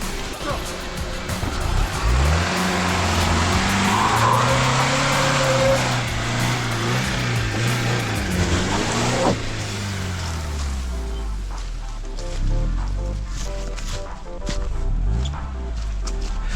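A 2002 Honda CR-V pulls away from a stop on a steep hill, engine droning and rising in pitch with loud, steady roar, while people talk excitedly over it.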